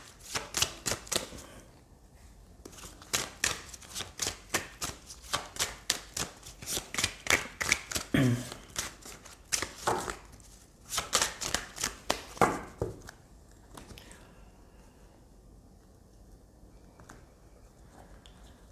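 Oracle cards being shuffled by hand, a fast series of crisp, riffling card flicks in repeated bursts, close and fairly soft, fading into quieter handling near the end.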